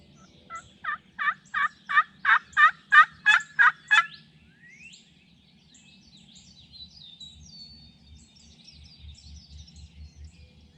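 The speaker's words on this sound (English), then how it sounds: "I finally heard my first gobble of the morning" A wild turkey gobbler gobbles in a rapid burst of about ten loud rising calls, followed by quieter distant bird chatter and low rustling, on an afternoon turkey hunt.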